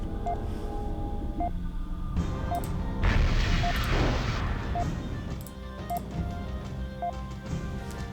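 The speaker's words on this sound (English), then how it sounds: "But that's what a small artillery strike is for." In the MechCommander video game, a small artillery strike sets off a loud, dense burst of explosions and crashing that swells for a second or two over an ongoing rumbling game soundscape, with regular soft electronic beeps.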